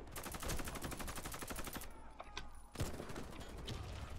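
Rapid automatic fire from an AK 9 rifle in the shooter game Warface rattles in fast loud bursts, broken by a short gap with mechanical clicks before the firing resumes, and no voices over it.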